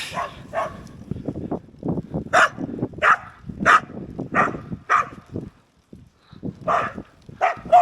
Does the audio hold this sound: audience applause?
no